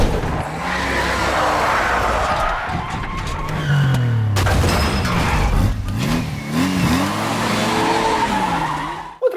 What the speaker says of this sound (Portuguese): quando o Ethan dirige o BMW mandando vários drifts em Paris